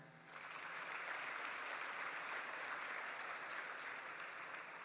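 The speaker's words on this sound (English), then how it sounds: "let us give ourselves a resounding round of applause for a" At a senior high school commencement, the graduation audience breaks into broad, sustained applause that swells within the first half-second and holds steady, sounding somewhat distant and soft.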